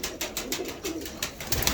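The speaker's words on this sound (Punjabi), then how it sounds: "ਇਹ ਗੋਲਡਨ ਕਬੂਤਰ ਬੈਠਾ" Golden pigeons cooing in a loft, soft repeated coos in a steady rhythm, close and fairly quiet, with a low rumble of background activity and no talking.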